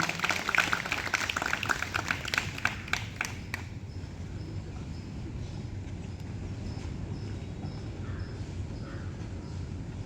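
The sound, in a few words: audience applause after a short play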